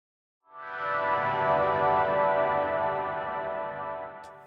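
A rich, sustained tone swells in and lingers, washed in a long shimmering reverb tail that slowly fades without cutting off.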